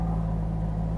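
A car pulls out and drives off, a steady low engine rumble and road hum heard from inside the cabin, with no talk.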